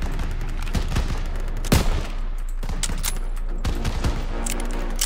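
Gunfire in the Call of Duty: World War 2 video game, a rapid burst of loud, close rifle and machine-gun shots with sharp repeated cracks and a few heavier booms, no speech over it.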